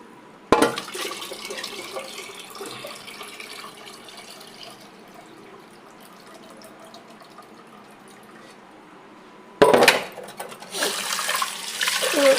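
Water is poured over dal and rice being washed in a kitchen, with a sharp splash near the start, a quieter trickle in between and a louder gush of pouring toward the end.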